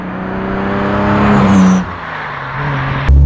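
A 1962 Jaguar E-Type Series 1 3.8 Roadster drives with a steady engine drone that rises in pitch and then drops back as the gear or throttle changes. A sharp thump and a brief louder burst come near the end. There is no talking.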